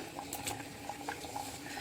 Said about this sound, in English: You can see it's boiling and we have added the fish here.